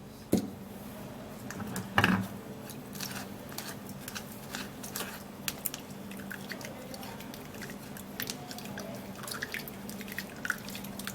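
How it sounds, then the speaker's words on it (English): Cucumber juice dripping and pattering through a sieve into a bowl, with soft irregular drips and small splashes, close and fairly quiet throughout. "we're going to be sieving out the cucumber juice"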